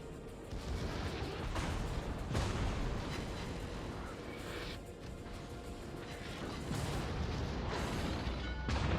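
World of Warships battleship USS Ohio firing its main guns and secondaries, a run of heavy booming blasts that overlap into a continuous, thunderous barrage.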